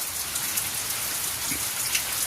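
Steady heavy rain pattering densely on surfaces, a constant hiss with no voices.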